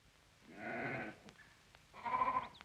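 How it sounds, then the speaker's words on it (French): Two sheep bleats in a Western TV episode, each about half a second long, moderately close, separated by a short quiet pause. "Écoutez, les moutons vont passer."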